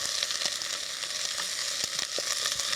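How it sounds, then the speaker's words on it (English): Onions and shallots frying over high heat in a pan give a steady, close sizzle broken by light crackles and pops and soft stirring sounds, with no talk. "we'll fry that until the onions have gone nice and soft"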